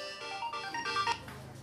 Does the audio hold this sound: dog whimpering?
no